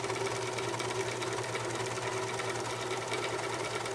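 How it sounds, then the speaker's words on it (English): A serger sewing machine runs steadily through fabric being straightened around a curve, a close, continuous rapid mechanical whir and clatter with a low hum, unbroken for the whole stretch and with no voices. "Sergers don't like curves, so we straighten the fabric like this by pulling it down so that it makes it straight"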